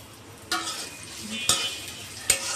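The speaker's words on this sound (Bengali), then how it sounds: "হালকা একটু পেঁয়াজ ভেজে নিব।" Chopped onions frying in oil give a steady sizzle in a pan, broken by three sharp stirring clacks of a utensil against the metal; no one speaks.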